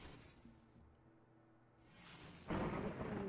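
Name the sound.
thunderstorm in the video game RimWorld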